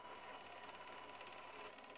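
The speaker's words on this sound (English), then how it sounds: "it is definitely fun to watch the device processing a print job." A homemade thermal printer working through a print job gives off a steady, continuous mechanical buzz, close and even in level from start to finish with no breaks, and nobody speaks over it.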